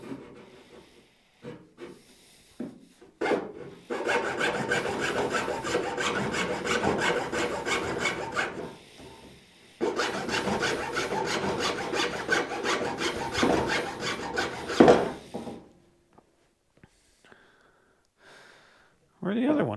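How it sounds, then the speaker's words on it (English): Screwdriver used as a chisel, scraping and prying out notches in new wooden bed boards for a 1980 Dodge Stepside truck; two long stretches of steady rasping, scraping wood noise with short knocks and pauses between, close up. "Once I get all these notched out, I just take a screwdriver and I chisel them out."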